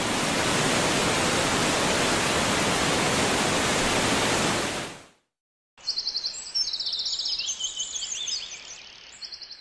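A torrent of water rushes into a cave in Ecuador as a loud, continuous roar. It cuts to a moment of silence, then to nearby birds chirping.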